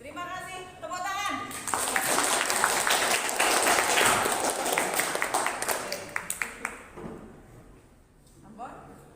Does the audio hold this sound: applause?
yes